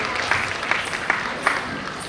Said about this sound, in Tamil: பலத்த கரகோஷத்தினை அளித்து அவர்களை பெருமைப்படுத்தும்.